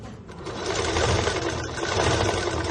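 A sewing machine runs steadily while stitching the body of a school skirt, giving a loud, continuous close-up whir with a fast mechanical chatter and no pauses.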